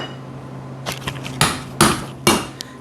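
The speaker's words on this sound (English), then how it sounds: "Now he's gonna hammer that bearing in as long as he don't get it lodged sideways." Metal hammer blows driving a cold bearing into an Arctic Cat 500 4x4 ATV hub, a few light taps followed by three heavy, ringing strikes spaced roughly half a second apart, close and loud over a low hum.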